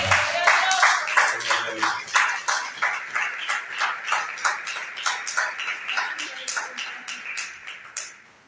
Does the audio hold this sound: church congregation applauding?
yes